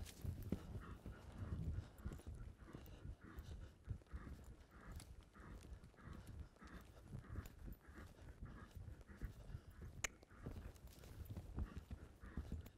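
A horse in a show-jumping arena approaches an obstacle and jumps it, with soft rhythmic hoofbeats on arena footing mixed with breathing and background noise, moderately near and fairly faint.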